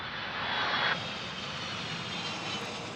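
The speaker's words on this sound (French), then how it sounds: "On a regroupé des avions sur la piste d'Aviano," Military aircraft engines roar steadily on the runway at Aviano air base, a continuous broad drone heard from a moderate distance with no voices.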